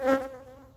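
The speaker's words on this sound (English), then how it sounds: "there's a nice cluster of bees in there" A short, close buzz from a honeybee cluster in a hive in winter swells briefly and then fades into a low hum.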